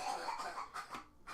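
A woman coughs in the background in a few hoarse bursts while she has a cold, heard faintly under a noisy, clattering room.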